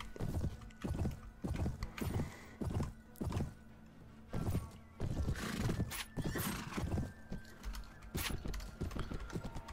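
Horses in Mount & Blade: Warband thundering at a gallop with steady rapid hoofbeats, loud neighs and whinnies rising over the clatter of a cavalry charge.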